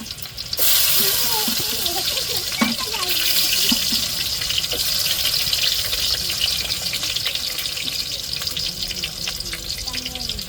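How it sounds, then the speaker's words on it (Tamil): Running tap water gushes steadily into a sink while something is rubbed and rinsed with rock salt, with occasional scraping knocks under the flow and a voice talking faintly. "இப்படி தாங்க உப்புக்கல் போட்டு உரசி நல்லா கழுவி எடுத்துடணும்."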